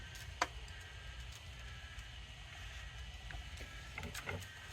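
A tape cleaning machine used on moldy tape runs its motor at a slow RPM. It gives a faint, steady low whir with occasional soft ticks, and nobody speaks.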